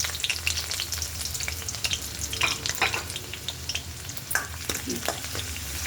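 Garlic and ginger fry in hot oil with a steady, dense sizzle, while a spoon stirs through the pan now and then, close up and loud, with no voices.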